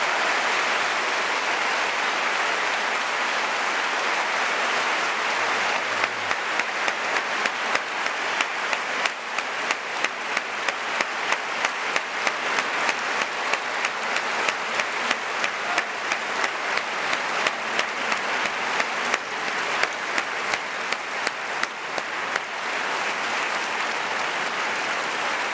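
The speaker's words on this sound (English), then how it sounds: "Let's give a big round of applause for all three party leaders for taking part." Audience applause for three party leaders at the end of a televised election debate on Canada's foreign policy, a sustained wash of many hands clapping, loud and even, then tapering off near the end with no talk.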